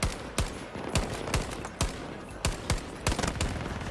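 K30 SMG fire in Battlefield 2042 comes as a string of loud, sharp bursts, about ten shots spaced unevenly over a few seconds against steady game background noise.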